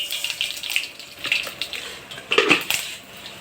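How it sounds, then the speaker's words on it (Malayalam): Mustard seeds drop into hot coconut oil in a pan while kichadi is being made, giving a soft hiss with scattered crackles and spits that bunch up into a sharper burst near the end. "എണ്ണ ചൂടായിട്ടുണ്ട്. അതിനകത്തേക്ക് നമുക്ക് കടുക് ഇട്ട് കൊടുക്കാം."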